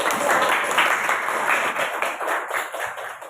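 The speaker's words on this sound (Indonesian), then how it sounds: "Berikan tepuk tangan untuk" Children in a classroom give a short burst of applause, a brisk patter of clapping that is loud at first and thins out over a few seconds.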